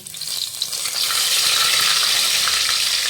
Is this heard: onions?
yes